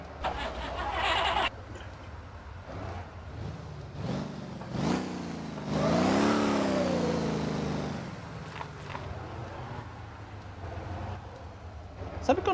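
A biturbo 3.6 Kombi in the racing game Motor Town revs hard, its engine note rising and falling through several loud sweeps with talk running underneath.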